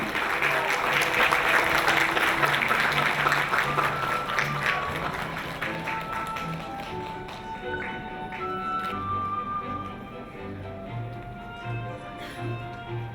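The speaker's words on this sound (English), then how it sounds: "Please give a big round of applause for this meaningful event." Applause from an audience at a peace event in Myanmar starts strong and gradually thins out, with a voice and other tonal sounds emerging as the clapping fades.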